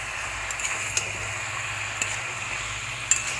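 Chicken sautés in a pan with a paste of cumin, cardamom and cinnamon, giving a soft, steady sizzle with scattered small ticks and clicks, fairly quiet, with no voices.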